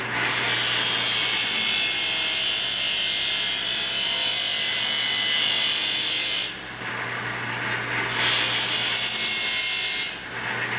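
A belt grinder fitted with a Norton RazorStar 10-inch expander wheel and a brand new belt grinding steadily, a loud high hiss that drops briefly twice as contact eases, with no talking.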